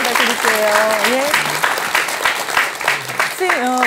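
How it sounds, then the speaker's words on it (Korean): Audience applause at a Korean lecture honouring a Buddhist monk, a dense steady clatter of clapping filling the room while a host's voice and music tones sound faintly over it. "큰 박수 부탁드릴게요"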